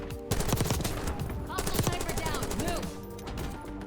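Rapid automatic gunfire from a Krig C rifle in the video game Black Ops 6 rattles in fast bursts, mixed with other in-game effects and a voice talking over part of it.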